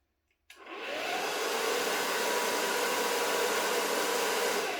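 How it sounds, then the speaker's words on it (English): A hair dryer switches on after a brief silence and blows steadily at full power, a loud, even whooshing roar close by. "I'll let you guys hear it, and then I think I'll blow dry"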